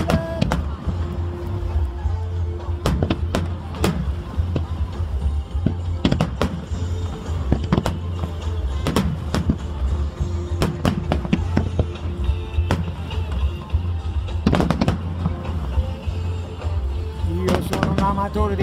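Festival fireworks over the beach in Pattaya, Thailand, in 2020: a string of sharp, booming bursts at irregular intervals, some in quick clusters, over a steady low background hum.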